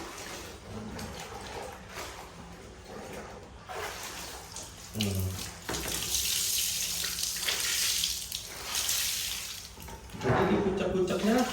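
A sarong is scrubbed by hand in dirty water, with splashing, sloshing and wet rubbing running steadily throughout and a short spoken word over the washing.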